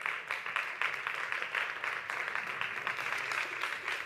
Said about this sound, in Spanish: Démosle un fuerte aplauso a Elisa Pérez Larrea.